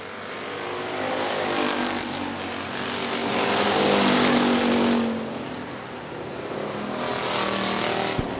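Stock cars in a Factory Stocks race at Hartford Speedway Park, including a 1956 Chevy Superstock, roar past in a steady loud engine drone that swells and fades as cars pass, with an announcer's voice faintly beneath.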